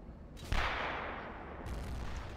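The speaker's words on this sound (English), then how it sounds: "Got some grenades going off." Grenade blasts and gunfire in a video game, with a loud burst of explosive crackle after a short build-up, then a rumbling tail and a second rise near the end.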